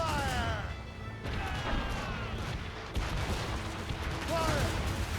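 Cannon fire from a naval battle in a video game, loud booming blasts and crashes over a dense roar of battle noise, with shouted voices mixed in.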